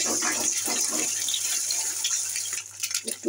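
Eggs hit hot oil in a pan and start frying at once. A loud, close rush of crackling sizzle fills the opening, then fades into softer spluttering pops toward the end.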